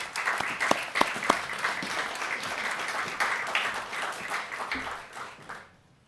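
Audience applause greets a speaker walking onto the stage at a finance event, steady dense clapping with a few sharper claps near the start, holding for several seconds before fading out at the end.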